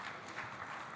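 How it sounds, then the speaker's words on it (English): Audience applause for the panelists at an African Takaful and non-interest finance conference: a steady, even wash of many hands clapping through the whole second, at moderate loudness. "Please give them a big round of applause for this."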